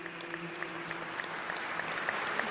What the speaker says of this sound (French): Dès l'arrivée du cercueil, des applaudissements pour saluer l'abbé Pierre.